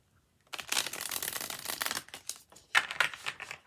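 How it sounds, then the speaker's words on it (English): A chunky tarot deck with thin cardstock being shuffled by hand, giving bursts of riffling and crisp card flicks close up, with a brief pause before a second flurry. "So let's go ahead and shuffle it and see how she does."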